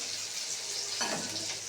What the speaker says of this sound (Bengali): ডাল যেরকম টকবক করে ফুটছে